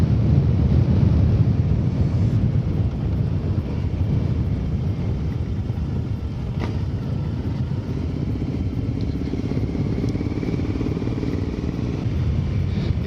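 A Triumph America motorcycle fitted with a booster plug rides along, its engine and exhaust giving a steady low rumble beneath heavy wind noise throughout.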